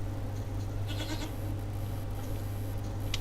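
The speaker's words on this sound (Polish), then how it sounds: "Koza!" A Minecraft goat bleats in a brief burst over steady game background hum, with a few faint higher bleat-like tones later in the clip.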